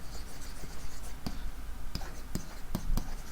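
Pen strokes on paper as a bullet point is written by hand, a series of short faint scratches and taps at irregular intervals, quiet and close, with no talk.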